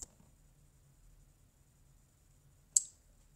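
A computer mouse clicks once, faintly, near the start, then again more sharply a few seconds later, two crisp isolated clicks over near silence.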